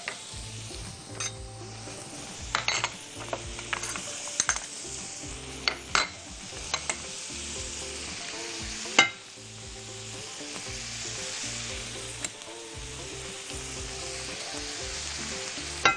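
Cubed chicken sautéing with onions in a hot pan: a loud continuous sizzle with frequent stirring scrapes and a few metallic clinks, no voices.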